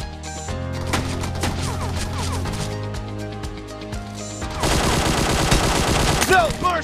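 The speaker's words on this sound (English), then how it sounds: "Now just peek and shoot them." Gunfire in the PUBG Mobile video game: rapid bursts of shots with sharp repeated cracks, growing denser and louder in the second half, up close and alone with no talk.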